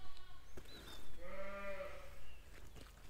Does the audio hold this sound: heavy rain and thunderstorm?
no